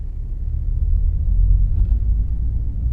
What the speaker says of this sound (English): you can just hear the truck in the background there as it's moving along